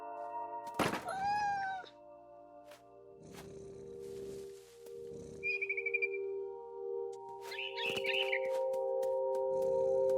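A cat meows in the video game What Remains of Edith Finch, a single bright mewing call near the start followed by a few short, higher chirps later, over a steady low game ambience with soft thumps.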